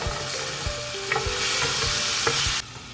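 Fresh scallops frying with a dash of soy sauce in a hot pan, a steady loud sizzle with rhythmic thumps and scrapes of a spatula tossing them, ending abruptly, no voices.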